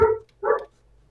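A dog in a multiplayer PvP survival video game yelps twice after being hit, a short cry followed by a second one, fairly close and moderately loud over quiet background hum.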